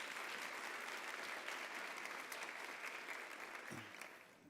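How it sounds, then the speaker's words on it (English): Round of applause from a symposium audience of faculty, staff and learners, a continuous wash of clapping heard from a distance, fairly faint, tapering off near the end. "Let's give a round of applause for all of those individuals."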